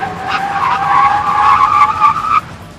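A 2014 Mazda 3 on a brake test lets out a loud, sustained tire squeal lasting over two seconds, wavering in pitch before it cuts off abruptly.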